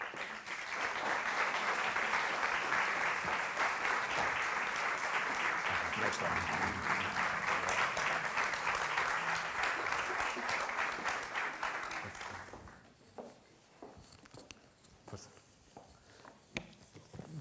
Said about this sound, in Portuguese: peço-vos, por favor, uma salva de palmas para Álvaro Laborinho Lúcio.